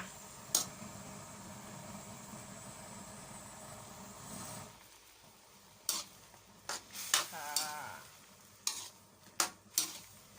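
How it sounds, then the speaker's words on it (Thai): Holy basil leaves pressed down into a simmering pork and eggplant curry, a low bubbling simmer for several seconds, then quiet broken by a series of sharp ladle clinks and scrapes against the pot. "แล้วเราก็จะใส่ใบกะเพรา นะคะ ลงไปเลยแบบนี้ เราก็กดใบกะเพราให้จมจมลงไปนะคะ"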